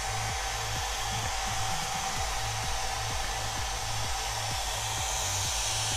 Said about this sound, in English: the hairdryer is a neat trick that incredibly speeds up the process of painting